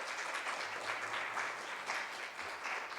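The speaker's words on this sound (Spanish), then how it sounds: "Dele una ofrenda de palmas" A church congregation applauding, a steady, dense wash of many hands clapping from start to finish, fairly loud and continuous with no clear voices above it.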